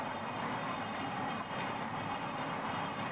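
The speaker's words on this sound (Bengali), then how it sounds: "তো এটা হলো মাল টানা ট্রেন" A freight train rolls past on the railway at Sarupeta, a steady broadband rumble and rattle of wagons that holds at an even, fairly close level for the whole stretch.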